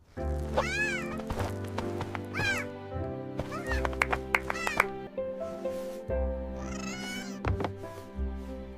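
A kitten meows repeatedly in short, high, wavering cries, fairly close and clear, with brief pauses between calls and a low background hum.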